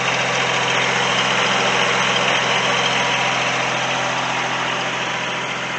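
A Kubota three-cylinder diesel engine with a Zexel injection pump idles steadily, heard up close at the radiator end as a loud, even, vibrating rumble with no talk.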